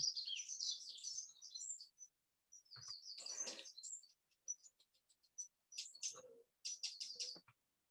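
A wren sings in short, high, rapid trilling bursts broken by pauses, fairly faint and without talk.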